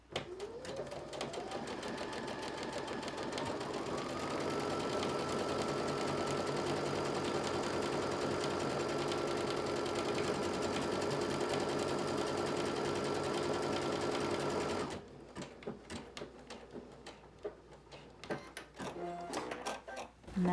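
A sewing machine stitches a buttonhole on a small plush button-up shirt, running in a steady, continuous mechanical whir with a rapid needle rhythm for about fifteen seconds before stopping, leaving only faint handling clicks.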